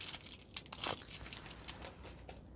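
A roll of grid-patterned washi tape is unrolled close by, giving soft, quiet crinkling and brief peeling rasps in an uneven run.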